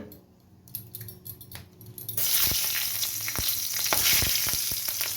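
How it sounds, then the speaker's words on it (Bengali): Two green chillies dropped into hot oil left from frying fish burst into a sudden loud crackling sizzle after a quiet start, with sharp pops over a continuous hiss. "ওই তেলের মধ্যেই আমি দুটো কাঁচা লঙ্কা প্রথমে ফাটিয়ে দিয়ে দেব"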